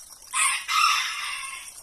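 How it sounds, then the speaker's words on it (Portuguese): Peahen calling at dawn at a home with ducks, peacocks and roosters around, two loud, harsh, nasal honking cries in quick succession, close by. "Esse é o barulho da pavoa."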